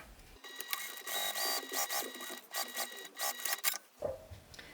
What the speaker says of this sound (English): I'm going to go ahead and top stitch down this long edge